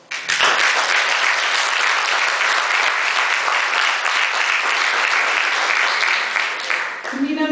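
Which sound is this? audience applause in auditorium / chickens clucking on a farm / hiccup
audience applause in auditorium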